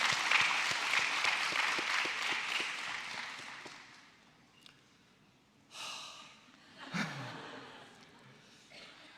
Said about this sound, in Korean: And so give them a round of applause.